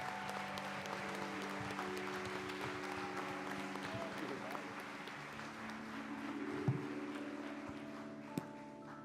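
A church congregation applauds during a solemn session, sustained steady clapping over a held organ or keyboard tone, with voices through it.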